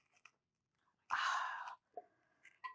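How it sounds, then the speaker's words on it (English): A sharp, brittle crunch as a knife breaks through a crisp chocolate pavlova shell, close and distinct, followed by a few small crackles in near silence. "we're going to cut into the pavlova"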